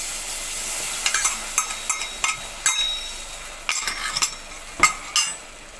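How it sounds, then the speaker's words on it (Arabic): A spoon stirs a thick sweet mixture in a pot, clinking and scraping against the metal in quick, uneven strokes over a faint steady hiss from the heat. "نقلب بقى"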